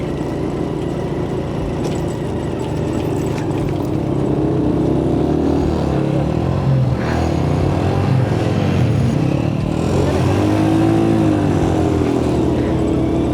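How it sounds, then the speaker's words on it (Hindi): Motorcycle riding slowly in low gear over a muddy, unpaved off-road track through a meadow in Pakistan, its engine droning steadily and loudly throughout with shifting pitch. "दूसरे गियर पे बाइक थी और पहला लगाया नहीं हुआ था और आ गया ऑफ रोड, तो मैंने पहला गियर लगाया"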